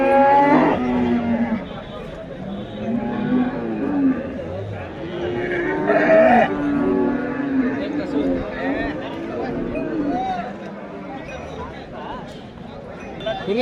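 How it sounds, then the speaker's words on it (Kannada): Cattle and buffaloes low and moo repeatedly at a busy village cow market in Nulvi, with crowd chatter and talking running underneath throughout. "ಇವತ್ತಿನ ಸಂತೆಗೆ ಒಳ್ಳೆ ಎಮ್ಮೆಗಳು, ಹಸುಗಳೆಲ್ಲ ಬಂದಾವ ನೋಡ್ರಿ."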